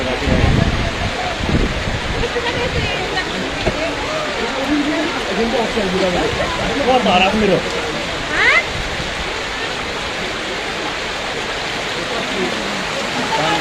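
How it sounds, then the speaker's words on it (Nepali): Heavy rain runoff pours down a hillside road in Kurseong in a continuous loud rushing flow with splashing. Someone talks over it throughout. "यतापट्टिको जो झोडा छ त्यो झोडाबाट सिधै यता बगेर आउँछ पानी"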